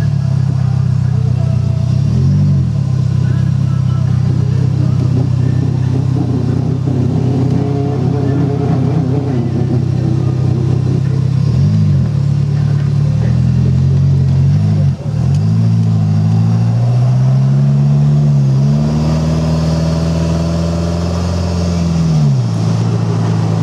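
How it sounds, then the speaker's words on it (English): A Thoroughbred Stallion car with a small four-cylinder engine, driven on a cruise. The engine is loud and close, revving up and down repeatedly as it shifts through gears and pulls, with rising pitch sweeps and a steady underlying drone. "Let's take this thing for a little cruise."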